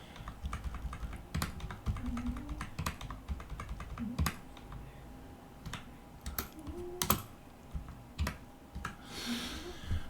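Computer keyboard typing during a programming lesson, with irregular bursts of keystrokes and a few louder clicks, like the space or enter key, moderately close with no speech over it.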